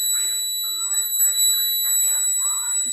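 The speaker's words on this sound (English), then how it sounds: "it will give the buzzer sound" A steady high electronic tone from a buzzer in a Li-Fi vehicle-to-vehicle anti-collision system rings throughout, with a person talking over it.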